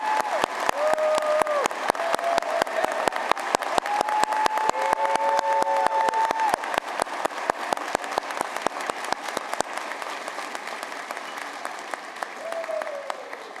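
Sustained applause fills a 2023 commencement ceremony, many hands clapping with sharp individual claps standing out and a few brief whoops over the top, thinning slightly toward the end.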